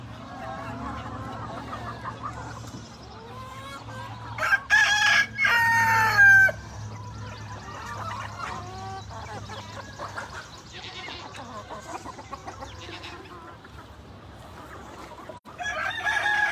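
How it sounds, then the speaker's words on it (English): Rooster crowing loudly on a farm, several long crows in the middle of the clip, with chickens clucking and the odd goat bleat around it, all close by. "We are back here with the crazy rooster."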